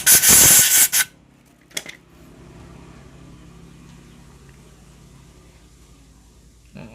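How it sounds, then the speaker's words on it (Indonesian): Spray aimed at motorcycle engine valve parts while checking the lapped valve seats: one loud, hissing burst lasting about a second, a faint short puff shortly after, then near silence with low background hum. "Kita semprot dulu ya."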